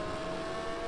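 A Corvette RM (C6R) race car engine in Gran Turismo drones at a steady high pitch, a continuous tonal buzz with no gear changes in this brief moment.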